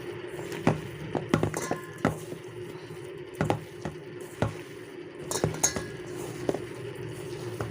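Shark fish pieces being mixed by hand with spice powder in a bowl, giving soft repeated clinks and squelchy stirring taps at close range with no talking.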